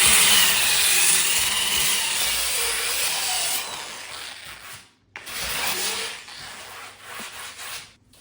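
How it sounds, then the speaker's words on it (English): Excess EPS foam is shaped by hand after the glue has cured, heard as close, brisk rasping and scraping strokes that run continuously at first, then break into shorter bursts with brief pauses. "And now I can shape the extra EPS."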